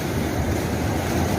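Sea waves wash steadily onto the shore, a continuous loud rushing surf mixed with wind buffeting the microphone, no voices.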